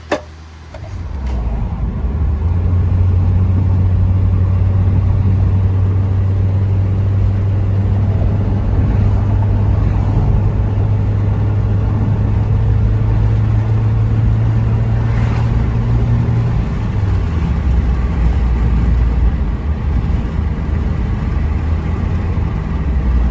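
A 2003 Toyota Matrix XR fitted with a TRD muffler runs steadily with a low, even exhaust drone, the note holding through a long stretch and then dropping lower as the throttle eases off near the end.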